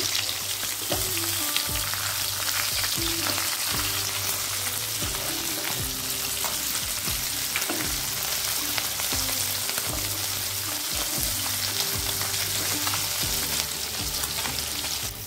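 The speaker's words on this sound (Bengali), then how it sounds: "মাছ ভাজাটা হয়ে গেছে" Parshe fish frying in mustard oil in a wok, a dense, steady sizzle and spatter with repeated low clunks and scrapes of a spatula throughout, no talk.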